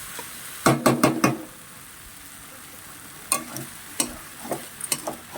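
Vegetables and prawns being stirred in a pan with Malabar spinach leaves, heard as clusters of sharp spatula scrapes and knocks over a soft, steady sizzle, with quiet gaps between bursts.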